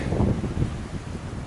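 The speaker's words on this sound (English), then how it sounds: "I've got the wind coming into my face now" Gusty wind buffets the microphone, producing low rumbling blasts that swell and ease over a second and a half.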